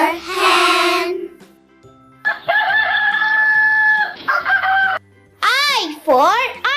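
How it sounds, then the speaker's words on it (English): A rooster crows loudly at the start, followed by chicken clucks and squawks, then a few rising, warbling bird calls near the end. "H for hen"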